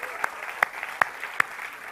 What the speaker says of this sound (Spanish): ¿Cuánto le dan un aplauso a Hanna y a Jonathan?